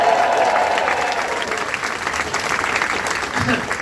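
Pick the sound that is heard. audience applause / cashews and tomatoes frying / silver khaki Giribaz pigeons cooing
audience applause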